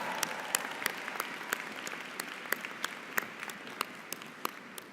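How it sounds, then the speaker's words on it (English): Moderate applause from a commencement audience after a Spelman College Glee Club performance, an even patter of clapping with scattered sharper claps, somewhat distant. "Let's give them another round of applause."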